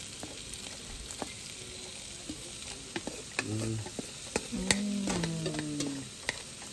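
Nopales stirred into a frying pan of meat in red sauce, with continuous sizzling, clinks and scrapes of a utensil against the pan and a brief murmur from a voice.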